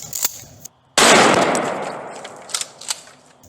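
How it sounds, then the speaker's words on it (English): A BB gun fires a single sharp, loud crack at Pyramex safety goggles, and a long noisy decay trails off after it. Small ticks and light handling noises come before and after the shot. "I shot just right on the top of them."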